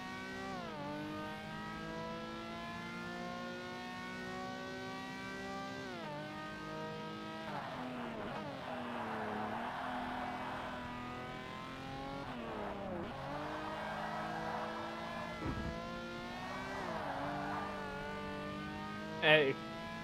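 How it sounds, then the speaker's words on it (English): Synthetic-sounding rotary car engine drone in Forza Motorsport with stepped pitch rises like gear shifts, steady and loud throughout, a brief sharp squeal near the end. "I love how low quality the actual engine noises are in this game."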